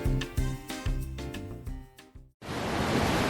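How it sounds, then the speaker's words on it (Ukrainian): Music plays and then cuts off, giving way to the steady roar of the Shypit waterfall in the Ukrainian Carpathians, a continuous broadband rush of falling water that holds at an even level. "А ось і водоспад. Водоспад Шипіт є одним з семи природних чудес України."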